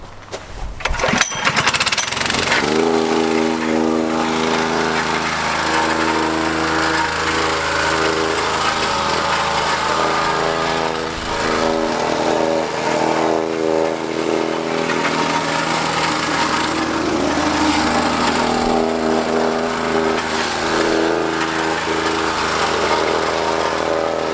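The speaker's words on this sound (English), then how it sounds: "I'm going to use the whacker plate." A petrol whacker plate compactor works ground for a garage build, starting with a few knocks and then running as a loud, continuous rumbling, vibrating engine drone throughout, with no talking.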